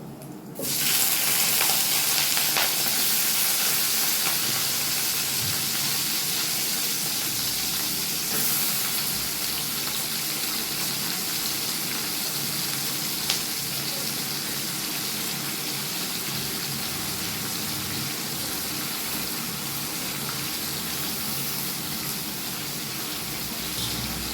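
Water lily stems fry in a pan with spice paste, starting with a sudden loud sizzle that settles into a steady, close hiss lasting throughout.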